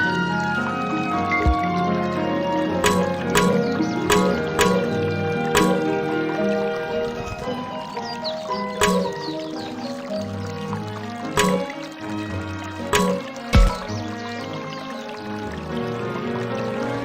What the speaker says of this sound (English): If I listen closely, I can hear the sound of the babbling brook.